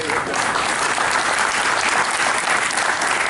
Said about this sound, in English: give them another great round of applause for that great work that they have done